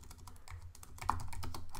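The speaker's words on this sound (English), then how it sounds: "so I can type in something here" Fingers type on a computer keyboard in quick, uneven bursts of soft clicks, close and fairly quiet, with no talking.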